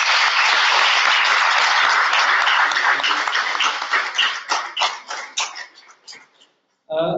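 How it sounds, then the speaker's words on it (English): An audience at a training session applauds loudly with dense, sustained clapping that thins into scattered claps and fades out, followed by a brief voice. "So I want everybody here to give a good applause to your leaders."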